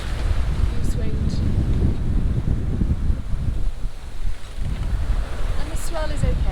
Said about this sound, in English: Got a beautiful sail now going downwind.